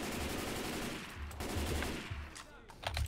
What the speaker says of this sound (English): I'm just shooting zombies.